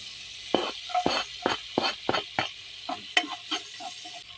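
Sopas being sautéed in a home pan with garlic and onion, a utensil scraping and stirring in a steady run of sharp, separate strokes over a soft sizzle, close by.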